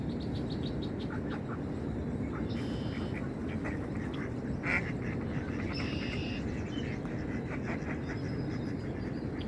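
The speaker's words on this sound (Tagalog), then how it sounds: "Ayan ang mga pato" Several ducks quack intermittently in short nasal bursts over a constant background hiss, some calls nearer and louder than others.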